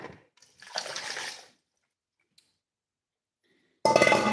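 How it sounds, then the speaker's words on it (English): Water is drained off cold vegetables for spring rolls, two short splashy bursts of pouring and dripping with a faint clink, separated by silence before a louder final pour. "Let's get rid of all of this water."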